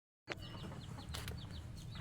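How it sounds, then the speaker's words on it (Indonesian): A chicken clucks in a short series of soft, repeated calls at a distance, heard outdoors in a garden setting with no talking. "ada ayam"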